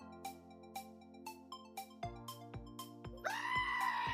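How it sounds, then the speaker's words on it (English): A goat bleat sound effect from a stream soundboard: a series of sharp, evenly spaced electronic clicks over a low hum, then a loud, wavering goat bleat near the end. "the next one, which is the soundboard one, which we have with Goat"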